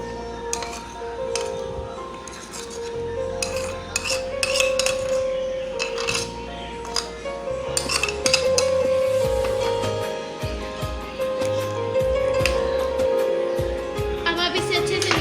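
Chicken pieces and cream are stirred together in a bowl, giving repeated clinks and scrapes of a utensil against the dish over a steady background hum, with occasional faint voice.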